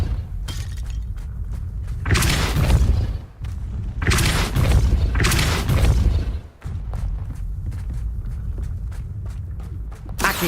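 Depulso force spell cast repeatedly in the video game Hogwarts Legacy, heard as heavy booming blasts with crashing, shattering impacts roughly every two seconds, loud and close, with footsteps and rumble between them.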